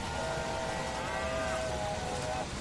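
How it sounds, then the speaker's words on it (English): A drawn-out cattle moo from the game Railway Empire sounds over a constant background hum, moderately loud and fairly close. "All this mooing going on."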